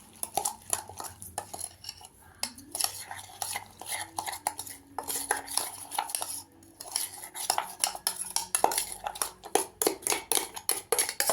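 A metal spoon beats an egg and breadcrumb mixture in a bowl, making rapid, continuous clinking and scraping up close, with a brief low hum in the background.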